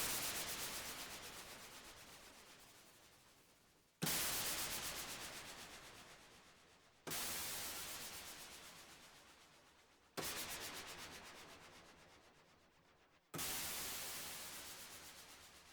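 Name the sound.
falling white noise sweep transition in electronic music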